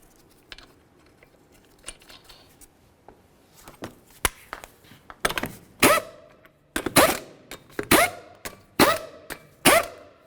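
Wrench clicks and metallic ratcheting bursts tighten the wheel lug nuts on a Dodge Journey, a few sparse taps at first, then repeated loud close ratchet runs in quick succession.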